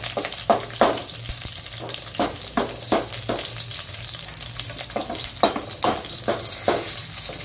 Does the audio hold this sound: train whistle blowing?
no